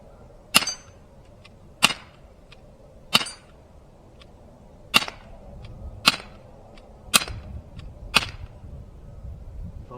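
Seven sharp, loud shots from a Glock 19 CO2 air pistol fired at a target trap with swinging targets, spaced about a second apart, each a crisp snap with a short tail over a quiet background.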